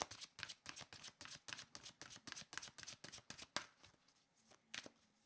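Tarot cards shuffled by hand, a rapid run of close, crisp riffling bursts in a steady rhythm that thins out into a few sparse flicks near the end.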